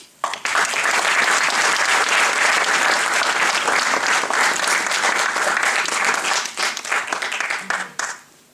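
A gala audience at a press-night variety show in Château-du-Loir gives sustained, loud applause for a guru magician from Bombay, dense clapping filling the hall for about eight seconds before tapering off.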